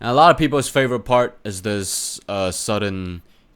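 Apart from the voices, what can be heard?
No everyday noises stand out.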